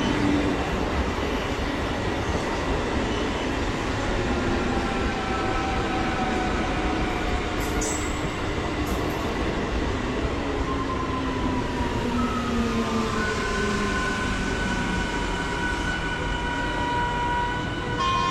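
A train passing through Balarambati station, a steady rumbling roar of rolling carriages that holds for a long stretch, with long drawn horn-like tones sounding over it.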